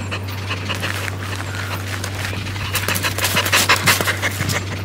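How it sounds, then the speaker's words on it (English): Two emaciated street dogs, an English pointer and a German short-haired pointer, pant rapidly and steadily up close, with breathy rhythmic gasps growing louder near the end over a low constant hum. "Two starving street dogs, hours from death, look unrecognizable after being saved"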